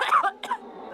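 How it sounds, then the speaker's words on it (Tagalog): Two short, harsh coughs close to the microphone, one right after the other. "Parang ubo."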